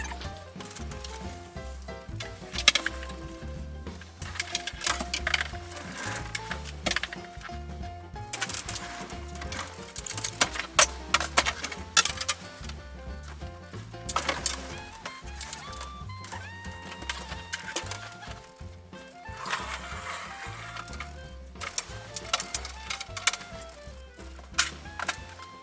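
A folding sewing table is pulled out in a sewing room, with a long series of scattered clunks, clicks and rattles of varying loudness over about twenty-five seconds and no talking.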